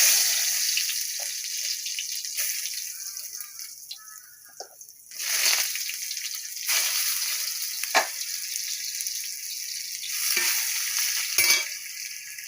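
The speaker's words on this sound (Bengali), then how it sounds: "আলুগুলো একটু ভাজা ভাজা করে নেব।" Potato pieces sizzle steadily in hot oil tempered with kalonji (nigella seeds) for a bitter gourd curry. A continuous close, bright hiss is broken by scrapes and stirs of the spatula, and there is no talking.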